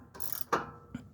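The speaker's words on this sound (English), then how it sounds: "now I'm done tightening it as far as my hand go" A wrench tightens a rear brake caliper bolt on a 2016 Nissan Pathfinder during a brake pad job, giving three short, close bursts of metallic ratcheting clicks with brief gaps between them.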